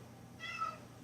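A house cat gives a single short, faint meow close by in a quiet room, with no talking.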